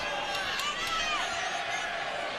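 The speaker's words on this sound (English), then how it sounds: "listen to the vociferous crowd as well" Vociferous crowd at the Canelo Alvarez vs Daniel Jacobs boxing match, a steady roar of cheering with a few sharp shouts, loud and continuous throughout.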